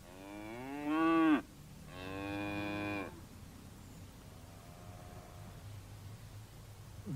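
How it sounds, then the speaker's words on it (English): A cow in the British countryside gives two loud, drawn-out moos, each about a second long, followed by a fainter low call against a quiet outdoor hiss. "Here is a cow."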